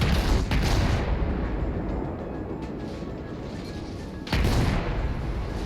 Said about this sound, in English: Take some more incoming fire from that Fuso probably